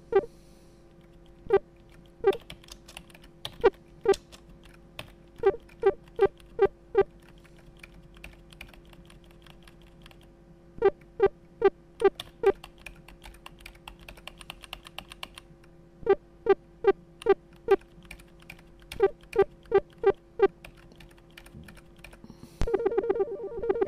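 Bursts of keystrokes on a computer keyboard in short rhythmic clusters, separated by pauses, with a faint steady tone running underneath.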